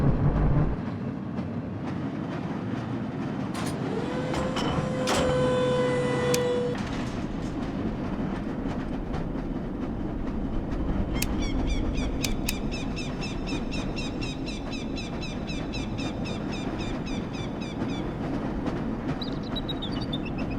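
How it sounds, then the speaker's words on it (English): A lever-controlled tram train runs along its track in the video game Black Mesa, a continuous loud rumbling roll with rhythmic clacks, a brief tonal whine early on and later metallic ringing squeals. "This lever-controlled train will transport you to a location where your training associates are waiting for you."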